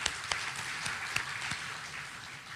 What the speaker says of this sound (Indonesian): Jadi tepuk tangan untuk warga Bandung.